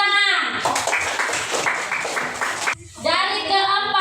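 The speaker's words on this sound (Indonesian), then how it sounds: "Tepuk tangan." A class of children claps together for about two seconds in a school lesson on Hajj practice, a brisk burst of hand claps that stops abruptly, with an adult voice talking before and after.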